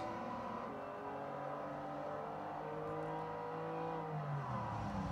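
A GMC Cyclone's engine in the Forza Motorsport 4 racing game drones steadily with rising and falling pitch as it accelerates through a race, continuous and fairly loud with no voices.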